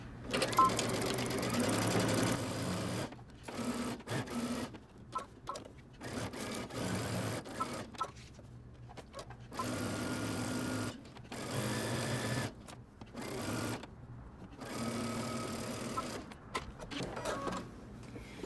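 A sewing machine stitches a garment from the center back along one side, running in repeated bursts of steady whirring broken by short pauses; no one speaks.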